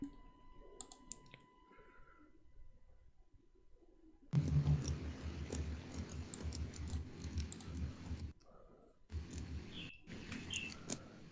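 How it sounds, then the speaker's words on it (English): Rapid clicking of keys on a computer keyboard during an online session, loud and close, running in a dense burst with a short pause before resuming. "Somebody is typing."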